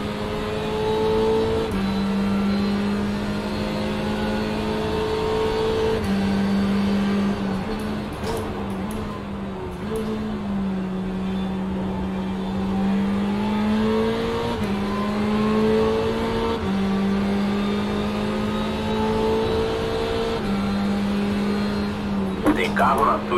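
Race car engines scream at Interlagos in an IMSA racing game, one car upshifting through the gears again and again with steady rising whines, an urgent voice talking over the engine sound throughout.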